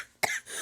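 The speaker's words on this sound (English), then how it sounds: "I've got a little cough has been coming in for me." A single short, sharp cough from a person, close and fairly quiet, followed by a brief breathy tail.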